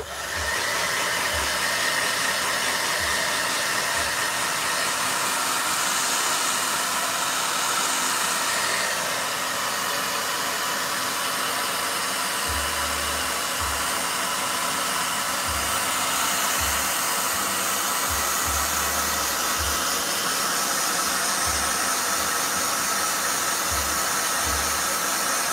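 A hair blow dryer runs continuously while drying hair, a loud steady whooshing hum with slight shifts in pitch and a few low bumps, and no talk over it.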